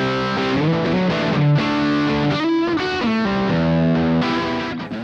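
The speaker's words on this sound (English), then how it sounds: "pressing this button selects channel 2 for more drive and distortion" An electric guitar plays through a Vox amPlug3 UK Drive headphone amp on channel 2, giving a thick, driven British-stack distortion with sustained chords and riffs, loud and steady, with no talking.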